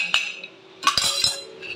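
A spoon clinks against a bowl while stirring a methi ladoo mixture with sugar, giving a few bright, close metallic taps spread out over a short moment, with no talking.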